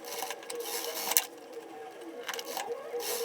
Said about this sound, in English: I'm gonna be sewing the side seams with a 1 centimeter 3/8 of an inch seam allowance.